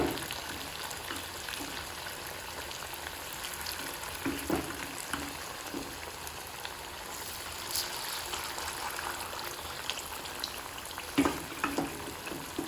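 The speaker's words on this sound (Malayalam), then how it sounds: "ചെയ്ത ചിക്കൻ്റെ കഷ്ണം ഇട്ട് വേവിച്ചെടുക്കാം കേട്ടോ" Chicken pieces for Schezwan chicken fry in hot oil over a medium flame, giving a continuous bubbling sizzle with occasional sharper pops and crackles, heard alone without voices.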